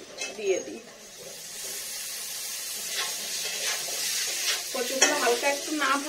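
Boiled taro pieces added to a pan of already fried potatoes, frying with a steady sizzle and stirring scrapes, with a brief voice at the start and louder crackling bursts near the end.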